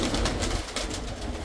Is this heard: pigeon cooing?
yes